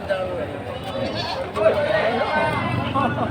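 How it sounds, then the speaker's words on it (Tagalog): A goat bleats at a livestock market in Padre Garcia, Batangas, amid a background of crowd chatter and market noise. "napakaganda ho ng kambing na yan"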